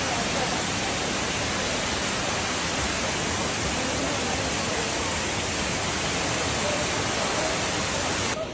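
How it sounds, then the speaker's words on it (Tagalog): Indoor waterfall inside a glass dome in Singapore, a steady dense roar of falling water rushing without pause, loud and close throughout. "There's a waterfall inside the dome."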